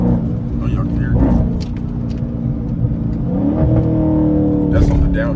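Dodge Scat Pack with a mid-muffler delete exhaust downshifting, a loud, deep rumbling burble with rising revs and pops, heard close from inside the car while people talk over it.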